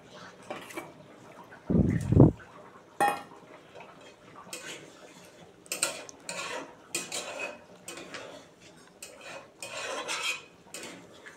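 Fried eggs stirred in a cooking pan with a utensil, giving scattered clinks and scrapes after one loud knock near the start, fairly close and without talk.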